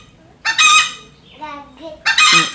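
A chicken close by gives loud, strident calls: two sharp crowing bursts bracketing softer, lower clucks in between, in a quiet setting.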